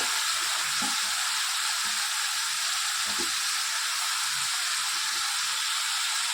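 Tomatoes and green chillies hit a hot pan in a Gujarati home kitchen, setting off a steady, dense sizzle that hisses evenly throughout, with a few soft low clinks and stirs beneath and no talking.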